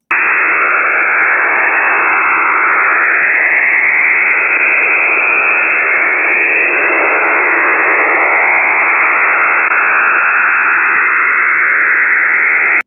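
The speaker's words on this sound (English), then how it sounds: "you can hear the noise that the data makes when they transmit it. It's encrypted data." Steady, dense hiss of an encrypted digital radio data transmission, a continuous band of noise with faint warbling texture throughout, loud and unbroken.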